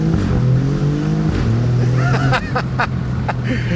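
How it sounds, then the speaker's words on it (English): A 2024 Alfa Romeo Giulia Quadrifoglio engine drones steadily, then a few sharp exhaust cracks and pops break through near the end on the upshift. "You put the window down, and you get some pretty serious cracks on the upshift."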